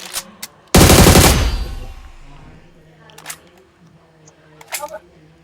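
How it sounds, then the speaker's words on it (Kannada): An AMR sniper rifle fires in a battle royale game: one loud, sharp shot with a booming tail that fades over about a second, followed by faint clicks and small game sounds. "ಟವರ್ ಮೇಲೆ ಒಬ್ಬ AMR ಇಂದ ಹೊಡಿತವನೆ."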